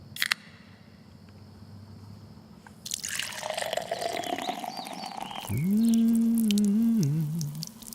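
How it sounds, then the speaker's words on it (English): Hard cider pours into a glass: quiet drips at first, then a rushing, gurgling stream of liquid that rises in pitch as the glass fills, followed by a loud, sustained wavering tone near the end. "our hard cider is so good, it pours itself."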